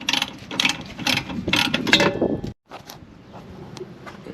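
A ratchet wrench loosens the rear brake caliper bracket on a Honda Element, a burst of rapid clicking pawl strokes up close, then a sudden stop and quieter handling noise.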